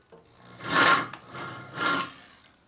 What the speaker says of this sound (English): This is deburring.